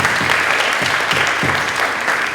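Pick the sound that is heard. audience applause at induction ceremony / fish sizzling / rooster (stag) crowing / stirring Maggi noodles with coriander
audience applause at induction ceremony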